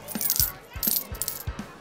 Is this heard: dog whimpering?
no